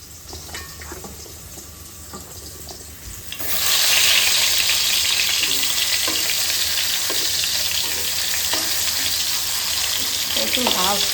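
Taro (kochu) pieces frying on a low flame: after a quieter start, a loud, dense sizzle suddenly swells and holds steady, with occasional clinks of stirring.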